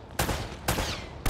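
Gunfire bursts in Uncharted: Drake's Fortune, three sharp broadband volleys roughly half a second apart, loud and close, each trailing into a short rattling decay.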